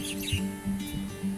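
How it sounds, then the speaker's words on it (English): Small birds chirp in short, bright bursts around a seaside resort lawn in Oman, fairly near, over a low steady outdoor hum. "You can hear the sound of birds chirping all around this place"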